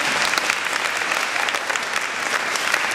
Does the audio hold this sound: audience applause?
yes